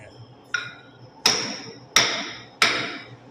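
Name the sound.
hammering to fit a new hammer handle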